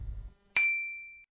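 A single bright notification bell ding strikes once after a brief quiet gap and rings out clearly, fading slowly over under a second.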